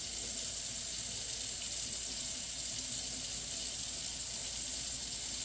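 Water runs steadily into a heated acid-dye pot holding nylon mesh being tie-dyed, a continuous hissing rush that stays loud and even from start to finish, with no voices.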